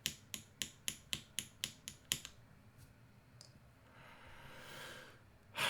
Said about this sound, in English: Those caps are hitting the screws, which I feel like shouldn't happen.